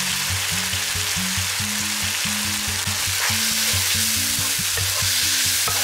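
Chicken is stirred in a hot pan with red chili powder, turmeric, coriander powder and salt, giving a loud, steady sizzle with rhythmic spoon scraping over a low, droning hum.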